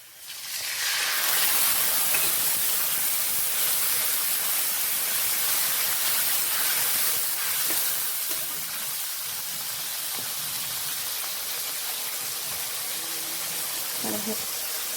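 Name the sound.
ginger garlic green chili paste sizzling with fried onions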